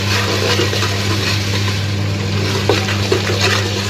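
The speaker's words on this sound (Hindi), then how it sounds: "ज़रा सा हमने किया इसमें पानी ऐड।" Water pours steadily into a pot, a continuous splashing rush over a low, constant hum.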